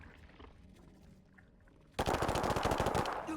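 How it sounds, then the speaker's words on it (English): Rapid automatic gunfire bursts loud and close in the video game Warhammer 40,000: Chaos Gate – Daemonhunters, after a quieter stretch of low game ambience. "He's going to shoot at one of the guardsmen."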